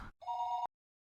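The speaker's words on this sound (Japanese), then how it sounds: "外線からお電話が入っておりますが、おつなぎしてもよろしいでしょうか。" A single short telephone ring from the visual novel Higurashi: one steady electronic trill lasting about half a second that cuts off abruptly, heard alone with no talk.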